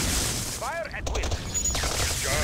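Soviet units in Red Alert 2 open fire in a short burst of sharp gunshots and booms amid battle noise, while a unit voice responds over the clatter.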